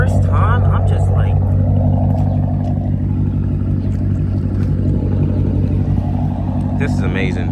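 A Dodge Charger R/T with an aftermarket exhaust idles close by, a loud, steady deep rumble that holds throughout while a person talks over it.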